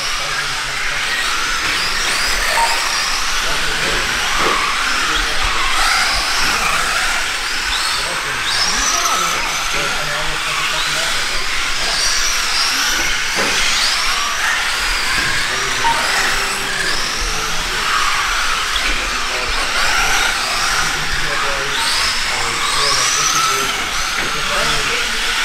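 Kyosho Subaru Impreza WRC 2002 FZ-02 RC model cars racing on a rallycross track, with a continuous high-pitched whine of small electric motors and tires. Someone commentates throughout.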